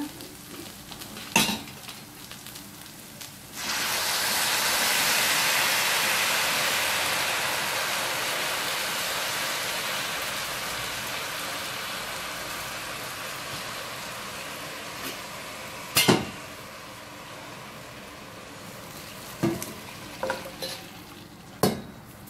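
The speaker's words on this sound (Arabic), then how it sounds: "هنزل عليه بالميه السخنه" Hot water pours onto rice in a pot for Egyptian koshari, starting with a loud rushing sizzle that slowly fades to a softer hiss, with sharp clanks of a utensil against the pot before and after.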